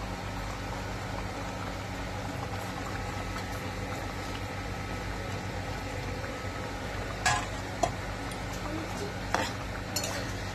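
Lentil fritters simmering in a pan of curry, a low bubbling hum with occasional clinks of a spoon against the pot, close and steady.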